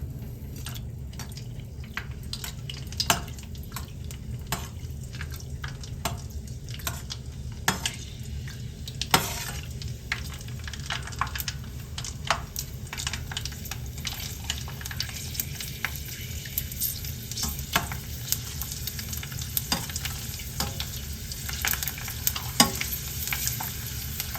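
Steady sizzling of food frying in smoking-hot oil, with crackles and occasional stirring clinks throughout, no talking.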